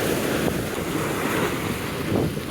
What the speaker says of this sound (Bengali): কি পরিমাণ পানির স্রোত!